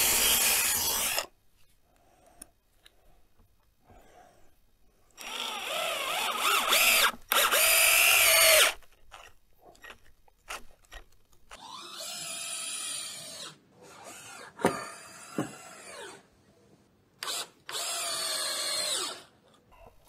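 A power drill driving screws into a wooden raised garden bed frame, heard as several loud, close whirring bursts of varying length separated by quiet pauses.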